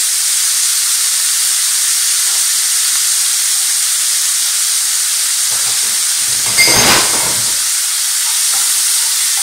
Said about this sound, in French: Alors je laisse sur le feu pendant 1 minute jusqu'à coloration des champignons.